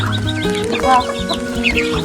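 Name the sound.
chickens clucking while being fed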